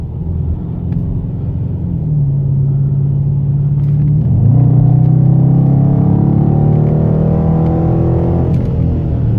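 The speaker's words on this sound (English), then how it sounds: "Man, that active exhaust is gorgeous" A 2017 Dodge Charger R/T with the 5.7-litre V8 and active exhaust, heard during a test drive: a deep, steady rumble that climbs midway as the engine revs up, the exhaust note rising and growling louder.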